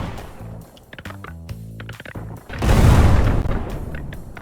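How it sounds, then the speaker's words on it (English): Explosions in the video game Kin and Quarry: a loud, broad rumbling blast swells near the middle and dies slowly, after a stretch of quieter clicking and tonal game effects. "So all of those explosions didn't take out any of the"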